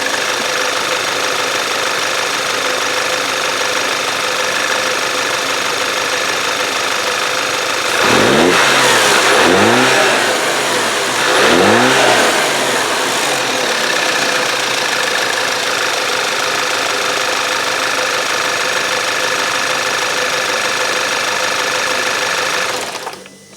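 A 2011 Audi A4 B8 engine, freshly fitted with new coil packs and spark plugs, idles smoothly and loudly close by, with two brief revs midway before it settles back to a steady idle.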